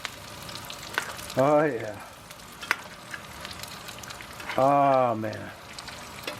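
A wagyu ribeye steak sizzles in a pan while being basted with butter, a steady crackling fry with sharp spoon taps, interrupted twice by a man's drawn-out exclamations close by.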